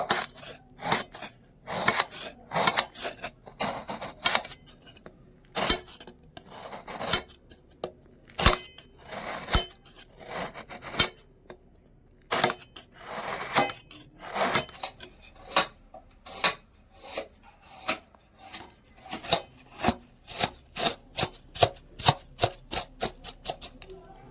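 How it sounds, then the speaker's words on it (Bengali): A knife cuts a block of jaggery into small pieces with a steady run of sharp, close chopping clicks that speed up toward the end, loud and with no talk. "এবারে এই গুড়টা এরকম করে একটু কেটে নেব"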